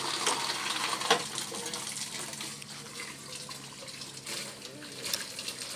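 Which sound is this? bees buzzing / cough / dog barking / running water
running water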